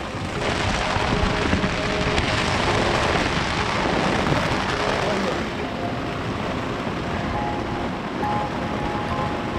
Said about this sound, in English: Oh, it's just cold rain.